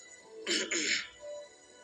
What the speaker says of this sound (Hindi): उसे दोबारा अपना गला साफ करके कहा